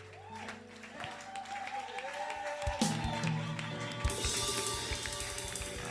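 A church congregation applauds and cheers in acclamation of Jesus during worship, clapping and voices rising together, with sustained music tones underneath and a louder burst of cheering toward the end.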